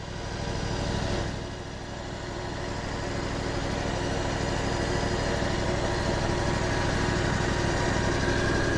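A lawn mower engine runs steadily and loudly close by for several seconds, a constant droning hum with no voices over it.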